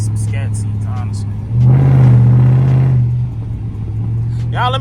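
A Chrysler 300C with an exhaust leak revs up loudly for about a second and a half, holding a strong rumbling drone before dropping back to a steady idle, with a voice heard briefly at the start and end.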